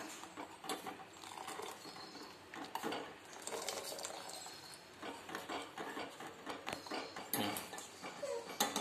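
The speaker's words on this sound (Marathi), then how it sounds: "आता मस्त अशी उकळी येईपर्यंत चहा उकळू द्यायचा।" Ginger tea simmering in a pot on a gas stove gives a steady bubbling hiss with scattered small pops and clinks, close and moderately loud, with no voices.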